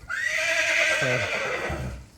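A mare whinnies loudly and close by on a farm where she grazes in a millet field, one long drawn-out neigh that falls and fades toward the end.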